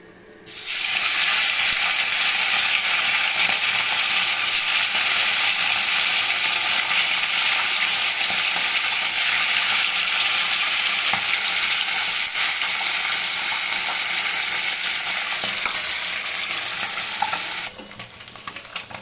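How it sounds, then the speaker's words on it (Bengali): Boroli fish sizzles loudly in smoking hot oil, a dense, steady crackling hiss that starts abruptly and holds close and strong before dropping off near the end, with no voices. "তেল গরম হয়ে গেছে, তেল দিয়ে পুরো ধোয়া উঠছে। এই অবস্থা এখন আমি মাছগুলোকে"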